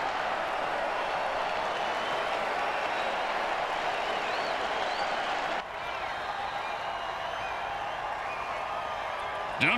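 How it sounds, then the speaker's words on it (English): In a football video game, the stadium crowd cheers in a dense, steady roar that stays loud throughout, dipping briefly just past the midpoint before surging again. "crowd's loving it"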